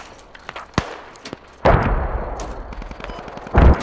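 Gunfire in the military shooter game Squad: scattered single shots crack at irregular intervals, then heavier bursts erupt loud and close amid rumbling echoes.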